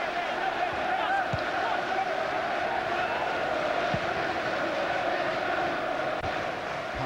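Football supporters make a steady, dense roar at a Crystal Palace versus Everton match, a continuous wash of crowd noise with no pauses.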